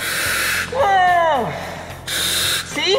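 A firefighter breathes through a breathing apparatus fed by an air tank, giving two sharp bursts of airy hissing as it draws breath, with a gasping, sweeping vocal sound between them.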